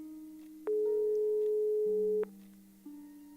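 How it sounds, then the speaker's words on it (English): An electronic telephone ringing tone in the video game Broken Sword 5: steady pure tones, one long loud burst between softer shifting tones, clean and close with no talking. "ring up Vera."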